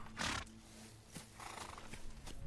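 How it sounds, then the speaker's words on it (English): A white horse neighs in a Disney western film, a loud shrill whinny up front followed by softer snorts and breathy calls, with faint background sounds between them. "an elusive white horse appears at John's grave"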